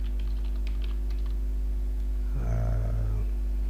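Computer keyboard typing an email address during an account sign-up, a quiet run of light key clicks early on, then a short low hum, over steady background hum.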